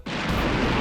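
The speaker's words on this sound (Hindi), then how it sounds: "पटाखे पे चिंगारी लग चुकी है।" A firecracker set off during a Diwali celebration explodes in a single sharp, loud burst that rings out briefly and fills the whole moment, with no voices.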